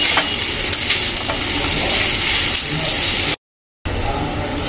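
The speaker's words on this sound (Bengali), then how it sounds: "এই যে কুঁদরি আলু এরকম শুকনো শুকনো করে ঝাল ভাজা করছি কারি পাতা দিয়ে" Ivy gourd and potato are dry stir-fried with curry leaves, giving a continuous loud sizzle with stirring scrapes and a brief silent gap near the end.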